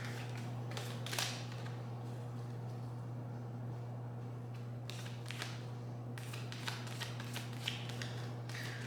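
Several quick bursts of card shuffling, riffling crisply over a steady low electrical hum, with short pauses between bursts.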